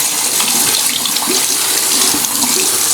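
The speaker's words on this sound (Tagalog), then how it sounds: "malakas yung pressure ng tubig" Water runs steadily from an antique gold-plated faucet into a sink, a continuous close splashing hiss with high pressure that holds even throughout with no pauses.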